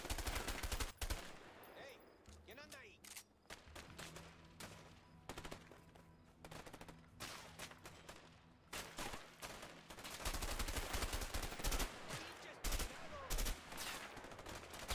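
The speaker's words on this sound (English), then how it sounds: "There's like four guys shooting me" Repeated enemy gunfire in the video game A Way Out, dense bursts and fusillades of shots running throughout, loud and busy with occasional brief voices underneath.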